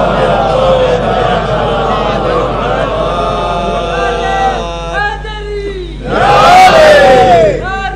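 A large mourning gathering at a majlis in Lucknow loudly recites salawat in unison, a swelling chorus of many voices that surges near the end over a steady background hum.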